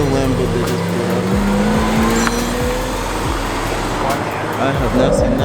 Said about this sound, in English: I have not seen that car run. God, that exhaust.